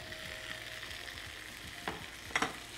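Carrots and capsicum sautéing in a pan with chicken powder for butter vegetable give a steady soft sizzle, broken near the end by a couple of sharper stirring scrapes, with no voices.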